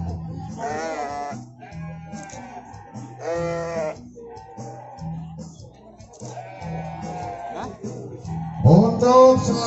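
Sheep bleat repeatedly at a sheep contest, several wavering calls overlapping at moderate distance, with a louder, closer bleat near the end over crowd background.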